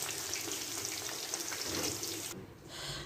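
Frozen samosas deep frying in hot oil for an iftar meal, a steady close crackling sizzle that drops away abruptly near the end.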